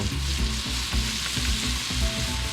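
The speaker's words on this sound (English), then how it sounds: "Let it cook with this Tabasco sauce for 5 minutes or so" A camping breakfast scramble with Tabasco sauce sizzles steadily in a hot pan outdoors in Colorado, a close, continuous frying crackle with soft rhythmic stirring scrapes.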